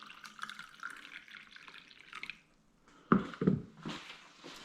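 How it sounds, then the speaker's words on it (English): Slightly warm tap water runs into a cup during no-knead bread making, a soft, quiet trickle that stops and then returns as a louder splashing pour. "fill the cup with water again"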